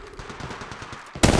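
Gunfire from the mobile shooter game Apex Legends Mobile: a rapid automatic burst with quick repeated shots, then a sudden loud, dense blast at the end, close and sharp.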